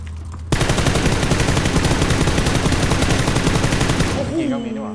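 In the video game PUBG, a sustained, rapid burst of automatic gunfire begins sharply and rattles on evenly for several seconds, loud and close, before cutting off as a voice cries out.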